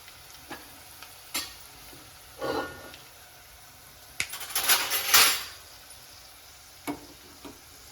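Spices temper in hot oil for a mixed dal with dried red chillies: scattered utensil clinks and ticks, short sizzling bursts, then a louder crackling sizzle midway, all close and without talk.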